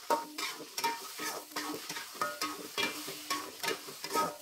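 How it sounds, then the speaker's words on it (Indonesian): Spice paste loosened with water being stirred in a pan for a home-style Indonesian dish, with repeated scraping strokes of a spoon and a soft sizzle and bubbling underneath, close and steady. "Diaduk kembali supaya tercampur rata."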